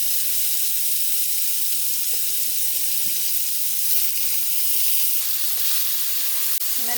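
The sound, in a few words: Beyond Burger patty sizzling as it fries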